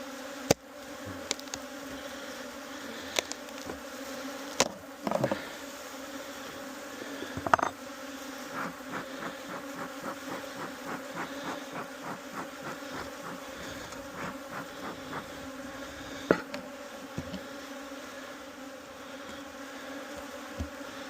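Honeybees hum steadily around an opened hive in an apiary, a close, continuous drone broken by sharp thumps and clicks of hive handling.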